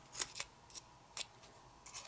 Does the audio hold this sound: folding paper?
yes